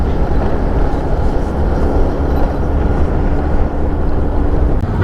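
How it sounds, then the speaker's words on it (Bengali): A motorbike riding on the open road between Dhaka and Sreemangal: a loud, steady low rumble of engine and wind roar carries throughout without a break, with no speech. "চালায় মজা পাচ্ছি বাইক।"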